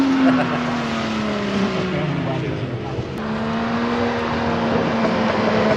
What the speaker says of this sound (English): The car does sound very good.